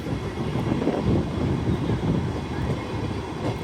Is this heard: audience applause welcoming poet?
no